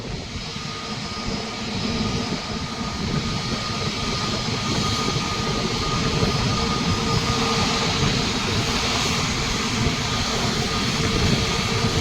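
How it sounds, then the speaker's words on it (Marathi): Airplane jet engines roar steadily at Mumbai airport as the aircraft taxis along the runway, a sustained, fairly loud broadband rumble and whine heard from a distance with no talking. "आता इंजिनचा आवाज बघा कसा येईल."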